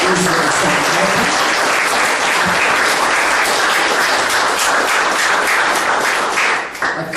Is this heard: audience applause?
yes